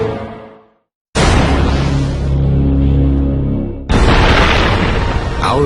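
A huge cinematic Big Bang explosion effect: a sudden massive boom after a brief silence, sustaining a loud roaring rumble for several seconds, then a second heavy blast surge near the end, with no speech.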